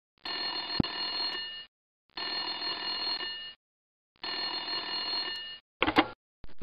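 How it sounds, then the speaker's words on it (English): An old-style telephone bell rings three times in the video game Little Monster Private Eye, each long trilling burst followed by a pause, then a short fourth ring is cut off, clear and alone. "Suddenly, the phone rang."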